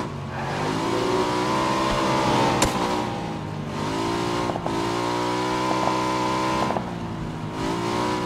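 A motorbike engine from the PUBG video game drones steadily with rising and falling revs as it drives around, continuous and fairly loud throughout, with no speech.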